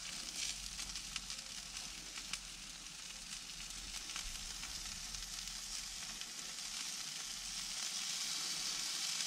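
Wood pigeon skewers sizzle on a barbecue over embers, giving a steady, crackling hiss with small pops that runs throughout, close and fairly quiet with no talk.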